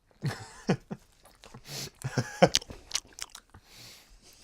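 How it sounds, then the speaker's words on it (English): Someone chews a slice of pizza close to the microphone, with wet crunching bites and a few throat sounds breaking up quiet gaps, and no talk over it. "I had to make sure you got me chewing."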